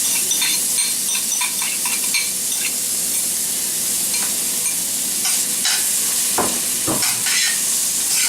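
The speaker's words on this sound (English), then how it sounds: "next you're going to put in your garlic and your onions" Garlic and onions sizzle steadily in hot oil in a pan for Spanish rice, a continuous close hiss broken by occasional stirring scrapes and clinks, with no talking.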